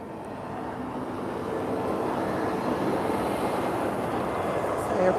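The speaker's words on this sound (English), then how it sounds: "Air France A320. Quite a smooth landing here too." An Air France A320 airliner lands at Lisbon Airport on a sunny afternoon, giving a steady, moderately distant jet roar that swells slightly and holds as the aircraft rolls down the runway, with some wind noise over the microphone.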